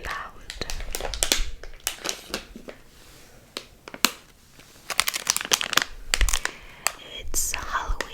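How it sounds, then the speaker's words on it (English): A plastic wrapper on Halloween milk chocolate candy crinkles and crackles in close bursts, loud and crisp against quiet whispering between handlings. "It's just plastic and I don't want to be so loud."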